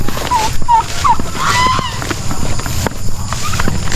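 Several turkeys gobble in quick warbling bursts over a noisy outdoor background, with scuffling and rustling around them.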